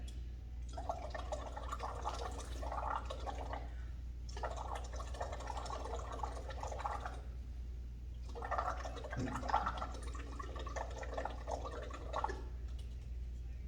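A person blows breath through water in a small container, making three long bursts of steady bubbling, each several seconds long and separated by short gaps, over a low constant hum.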